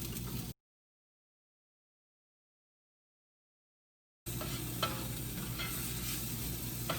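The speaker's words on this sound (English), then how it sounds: "All right, so I'll just stir that up." Garlic, a shallot and shiitake mushrooms sizzle in a pan while being stirred, a close, steady hiss with light scraping, broken by a long stretch of complete silence before the sizzling resumes.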